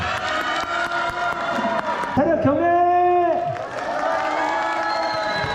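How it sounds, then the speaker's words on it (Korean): Cheering and applause rise from a crowd at a motorhome camping club's regular gathering in Goesan, a whooping shout with a wavering tone sounding over steady clapping and lively chatter, with someone speaking at the start. "박수 한 번 쳐주세요"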